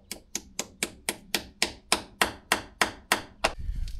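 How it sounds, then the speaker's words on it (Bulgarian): Steady hammer blows ring out during servicing of a Honda CRF1000 motorcycle while stubborn plugs are loosened. About a dozen sharp, evenly spaced metallic strikes come close and loud, with no talking. "Чук."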